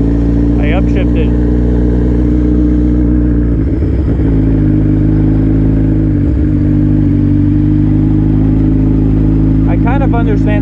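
Modified Suzuki GSX-R1000 motorcycle riding along just after an upshift: a loud, steady low engine drone with brief dips around gear changes, while a rider talks over it.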